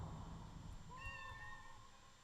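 A person imitates a cat meowing loudly, a drawn-out wavering mew rising and falling over a low background hum, set within a session of the tabletop game OFF.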